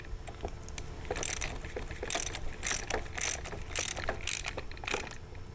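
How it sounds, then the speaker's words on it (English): A socket ratchet clicks in short bursts while tightening a nut during maintenance of a Dosatron D20S 100 GPM injector, with about six quick rhythmic clicking runs, close and fairly quiet over low background hum. "tighten down with the socket"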